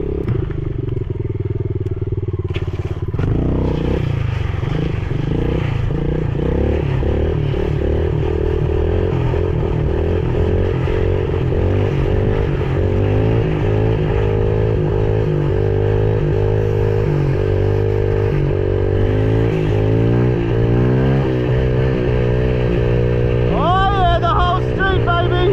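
A pit bike engine revs hard during a wheelie, a loud, close, continuous buzzing drone whose pitch climbs and falls with the throttle, with a brief rising whine near the end.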